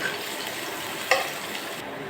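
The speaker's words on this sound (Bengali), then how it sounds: "সবগুলো এবার হালকা করে আমি একটু তেলের উপরে ভেজে নেব।" Chopped onion, garlic and green chilli fry with cumin in oil, giving a soft, steady sizzle close by, broken by one brief stirring clatter midway.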